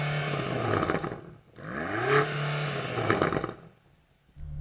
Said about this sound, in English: Go and rev up your plug-in hybrid.